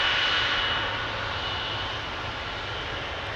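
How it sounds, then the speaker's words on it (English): A KLM Boeing 777-200 jet roars at Amsterdam Schiphol airport, a loud, steady broadband engine rush that fades slightly over a few seconds. "KLM flight 565 to Nairobi in Kenya. That's a 777-200."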